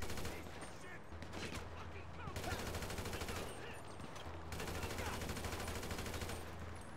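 Dense video game gunfire from enemies shooting at the player, continuous rapid bursts and volleys filling the whole stretch, loud and close, with someone talking at moments over the shooting.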